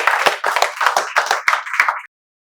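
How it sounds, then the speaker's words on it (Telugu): Several people clap together in a quick welcome, about six bunched bursts of hand claps over two seconds, close and fairly loud, ending abruptly. "మేమందరం మీకు చప్పట్లతో స్వాగతాన్ని తెలియజేస్తాం."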